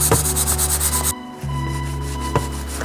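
Hand sanding with 400-grit paper scrapes clear coat off a Ducati Diavel windscreen, a close, rhythmic back-and-forth rubbing that pauses briefly midway and then resumes.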